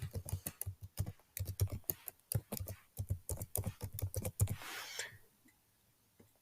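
An email address is typed on a computer keyboard as a close, rapid, uneven patter of key clicks that stops near the end, followed by a short rustle and quiet.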